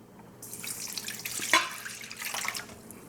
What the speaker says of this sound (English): Next, I pour the liquid